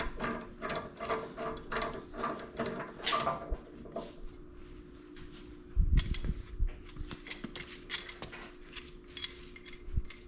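A hand ratchet clicks as shackle bolts are screwed into an aftermarket bumper on a JK Jeep, bursts of close metallic pawl clicks with a few clinks and knocks of tools and hardware between strokes.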